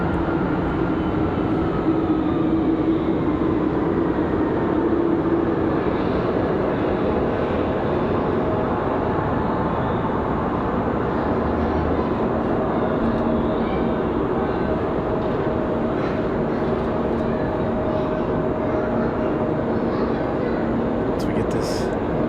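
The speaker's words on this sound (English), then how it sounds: "Republic Airways 4496 coming in from Pittsburgh, Pennsylvania." A Republic Airways airliner arriving at Raleigh Durham airport from Pittsburgh gives a continuous broad jet roar that holds steady for the whole stretch, heard from a distance.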